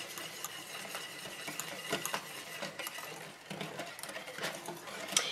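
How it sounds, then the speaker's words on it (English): Brown sugar and cornstarch being mixed together in a bowl, a continuous close scraping and rattling stir with irregular clicks of the utensil against the bowl, no voices. "And then I have 2 tablespoons of cornstarch. So we're just going to mix that all up."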